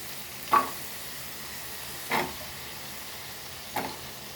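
Potatoes going into a pan with frying crushed garlic, producing three separate bursts of sizzle and stirring over a quiet background hiss.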